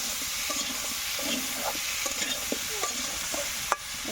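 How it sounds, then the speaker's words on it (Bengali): Potatoes with turmeric fry in hot oil while being stirred, giving a steady sizzle under repeated scraping and clacking strokes, with a sharper knock near the end and no talking. "আমি এই তেলের ভিতর এখন আলুগুলোকে ভালো করে ভেজে নেব।"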